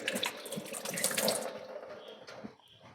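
A kitchen tap runs while hands are washed after mixing fish for frying, water splashing loudly into a sink for about a second and a half, then tapering to quieter trickles and drips.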